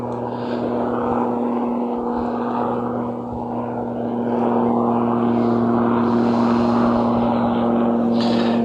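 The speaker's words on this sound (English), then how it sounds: "We always seem to be joined by helicopters in my videos recently." A helicopter flying overhead of a garden, a steady droning engine with a throbbing rotor hum, fairly loud and continuous, swelling a little louder toward the end.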